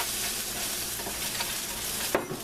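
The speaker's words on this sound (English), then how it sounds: "Just give it a good stir." Cauliflower rice, chicken and kale are stirred in a sizzling pan with balsamic vinegar and teriyaki sauce. A steady close frying hiss runs throughout, with soft scraping strokes and one sharper scrape near the end. No one speaks.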